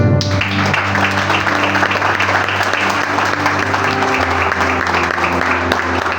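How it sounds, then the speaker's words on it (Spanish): Loud, sustained applause from a church congregation fills the space for several seconds after a Pentecost sermon prayer, a dense steady roar of clapping with a low organ or keyboard chord held underneath. "Denle un aplauso al Señor."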